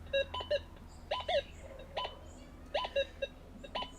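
Short electronic tones from a Gold Monster 1000 metal detector with a 5-inch coil, sounding on gold and iron targets, ring out in uneven bursts, some single and some doubled, fairly loud against a low steady hum, with quiet gaps between.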